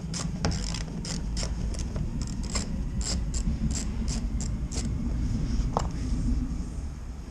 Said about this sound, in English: now we're gonna unscrew it